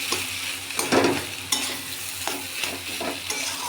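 A spiced filling with chili flakes fries in a pan while a spoon stirs it, giving a steady sizzle broken by scraping strokes and a few louder clanks against the pan, with no talking.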